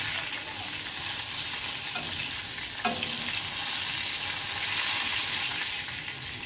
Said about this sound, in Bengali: মাছটা কিন্তু একটু কড়া করেই ভাজতে হবে।